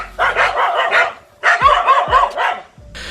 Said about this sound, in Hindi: अब यहाँ इन कुत्तों की गैंग ने इस झील में बैठे अकेले मॉनिटर लिजार्ड को घेर लिया